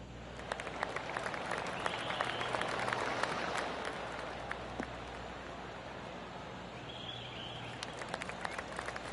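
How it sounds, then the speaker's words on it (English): Soft, scattered golf gallery clapping from a small crowd in the video game PGA Tour 2K25, a polite smattering of applause that holds steady at moderate distance with faint ambient hum beneath. "Oh, golf clap."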